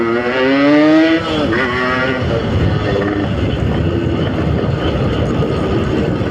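A Yamaha YT 115cc motorcycle engine revs hard under throttle, pitch climbing fast and then dropping before settling into a loud, steady run, ridden on a road.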